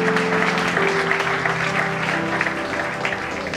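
Crowd applause fills a church service at the inauguration of a new temple headquarters, a steady dense wash of clapping with sustained tones from an organ or keyboard underneath, continuous and fairly loud throughout.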